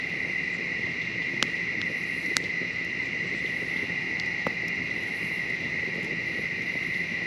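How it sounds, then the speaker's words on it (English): Crickets and other insects trill in a steady high drone at night beside a lake, with a few faint sharp clicks scattered through and a low murmur of frogs beneath, no voices. "all you can hear now is the bugs, the crickets, and I think frogs and toads."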